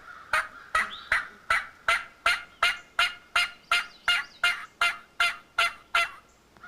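A hunter imitates a wild turkey yelp with his mouth, producing a steady run of about fifteen evenly spaced, close, loud two-note yelps that fall from high to low, with no other sound.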